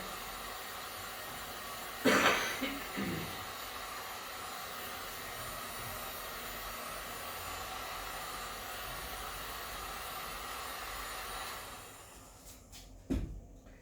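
A heat gun set on low dries freshly screen-printed ink, producing a steady, close airy blowing hum that runs for most of the clip with a couple of brief knocks, then fades near the end.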